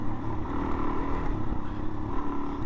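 A dual sport motorcycle being ridden, its engine a steady, dense drone mixed with wind rush, continuous and fairly loud throughout.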